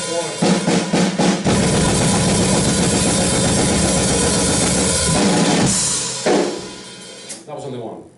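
A metal drum kit plays a blast beat pattern slowly, a loud dense wash of snare, kick and cymbals pounding steadily before breaking off into scattered hits near the end.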